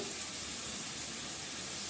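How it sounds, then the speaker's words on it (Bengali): Spices frying in hot oil give a continuous, even sizzle, close and fairly loud, with no talking. "এটা ফ্রাই হবে, মানে ভাজা ভাজা হবে"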